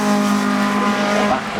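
A Mitsubishi Evo rally car, number 48, driving through a gravel stage at the McRae Rally Challenge, its engine a loud, close, sustained strained drone with a steady pitch that shifts slightly near the end.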